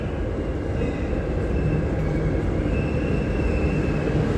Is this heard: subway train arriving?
yes